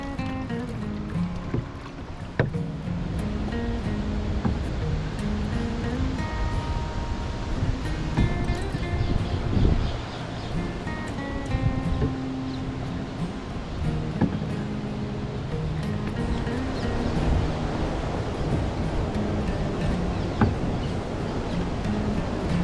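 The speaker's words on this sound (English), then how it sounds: "you might hear some water. It's just from the weir" Water pouring over a weir on the River Thames near a lock, heard from a canoe at sunset as a continuous broad rush blended with wind and nearby rustling, steady and moderately loud throughout.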